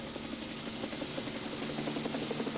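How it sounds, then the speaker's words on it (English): A helicopter approaches over open country near a ranger station, its steady rotor chop and engine hum rising as a continuous, fairly distant drone with no voices. "And now I can hear the helicopter coming."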